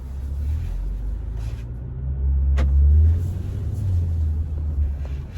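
A 2021 Jaguar F-Pace S R-Dynamic pulls away, its low engine rumble swelling as it accelerates, then settling to a steady drone heard from inside the cabin without talk.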